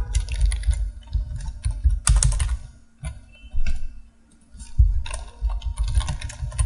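Quick bursts of keystrokes on a computer keyboard, close and crisp, in irregular clusters with short pauses, no talking.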